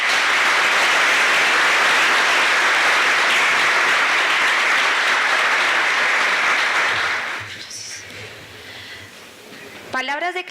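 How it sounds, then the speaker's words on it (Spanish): A conference audience at an aeronautical logistics congress gives panelists sustained, loud applause for about seven seconds, which then tapers into quieter shuffling, and a voice comes in briefly near the end. "por favor pido un aplauso para ellos."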